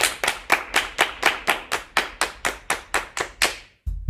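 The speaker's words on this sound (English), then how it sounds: "Everybody clap your hands." A group claps hands together in unison, about fourteen sharp, evenly spaced claps forming a steady rhythm over a few seconds, then a brief pause before a final clap; no talking.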